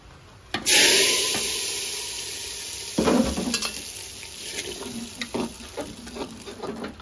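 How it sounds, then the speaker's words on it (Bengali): Hot fried cumin seeds, bay leaves and dry chillies are poured into a dish with the gas turned off, setting off a sudden loud hiss that fades into softer sizzling. A spoon stirs and clatters in the pot as the crackle dies down. "জিরে তেজপাতা ভাজা হয়ে গেছে, এবার আমি গ্যাস বন্ধ করে ঢেলে দেবো।"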